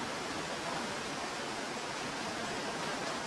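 Neer Waterfall near Rishikesh pours as a constant broadband roar of falling water, loud and close, with no voices over it.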